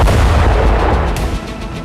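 A Ratel ground drone carrying a 35 kg payload detonates and blows up a bridge in Donetsk, a loud deep boom with a rumbling, crackling roar that decays over about two seconds.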